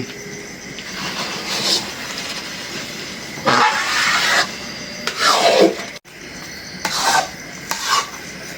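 A spoon scraping and stirring olive pickle around a pan, repeated rasping strokes in uneven bursts, close and fairly loud with a soft cooking hiss beneath.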